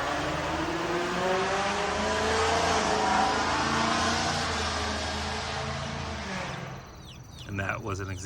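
A car revving its engine and driving past, a loud sustained roar that swells and then fades as it moves away, with a brief lighter noise at the end.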